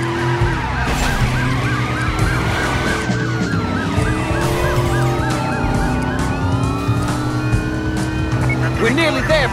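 Police sirens wail continuously in the Driver: San Francisco video game, loud and layered over engine and road noise during a chase.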